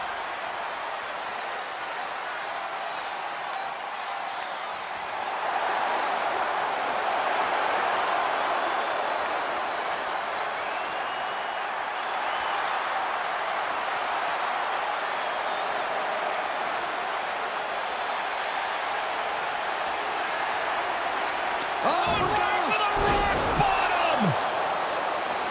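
A WrestleMania arena crowd in the WWE 2K25 wrestling game roars in a sustained, swelling wash of cheering that rises after a few seconds and holds, with a few sharp thuds and slams near the end.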